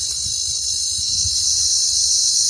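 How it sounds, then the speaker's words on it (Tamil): Cicada buzzing in a forest, a continuous high shrill drone that stays loud and unbroken throughout, with faint low rumbles underneath and no talking. "அப்பதான் இந்த சில்வண்டு சத்தம் எழுப்புறத பதிவு செய்ய வாய்ப்பு கிடைச்சது"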